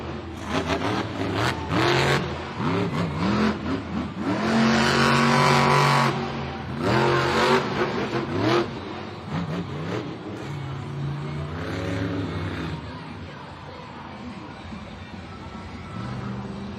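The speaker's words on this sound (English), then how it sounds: "She can refire that Monster Jam truck." A Monster Jam monster truck engine at a stadium championship event in Kansas City refires and revs in loud surging bursts, then settles to a lower roar, with an announcer talking over it.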